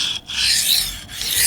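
Knife blade drawn across a Shapton Glass sharpening stone, a loud close gritty rasp in long strokes with two brief breaks between passes, alone without talk.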